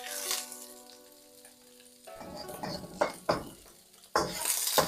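Vegetables sizzle and crackle in a hot wok, a steady frying hiss that grows louder, broken by a few sharp scrapes and clanks of a utensil against the metal.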